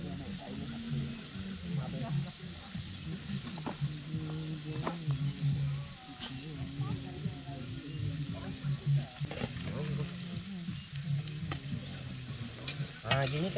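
Food sizzles and fries in a pan over a camp fire beside a lake in Aceh, a steady close crackle and hiss with stirring scrapes, while people talk over it.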